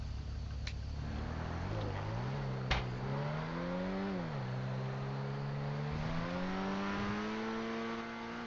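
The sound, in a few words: car driving in video game GTA V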